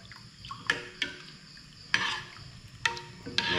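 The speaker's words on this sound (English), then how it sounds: "Stir it up in the water a little bit" Coffee grounds being stirred in water in a pot, a few scattered clinks and scrapes of a utensil against the container over a quiet background.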